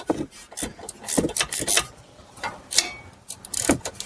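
A 15 mm ratcheting wrench turning a sway bar link nut on a Buick Enclave, Chevy Traverse or GMC Acadia, giving close, loud bursts of rapid ratchet clicks in short irregular strokes with brief pauses between them.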